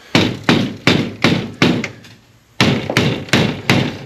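Hammer blows on metal after plasma cutting, a series of sharp, loud close strikes in a steady rhythm, a brief pause after the fifth, then four more in quick succession.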